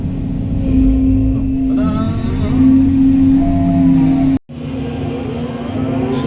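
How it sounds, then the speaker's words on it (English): A truck engine drones and revs at a pond dredging and borrow pit site, a loud close rumble with a steady tone that rises and falls, briefly cut off near the end. "is the truck gonna turn?"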